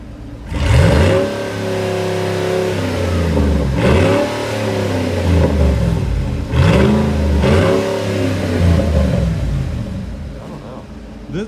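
A Ford Raptor V8 truck exhaust revs up repeatedly in several deep, rumbling swelling bursts, loud and close, with a steady throaty idle between the pulls.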